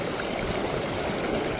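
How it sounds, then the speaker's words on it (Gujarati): Water from a village borewell gushes out in a loud, continuous rush that stays close and steady throughout. No voices are heard. "બોરનું પાણી જોવા મળે"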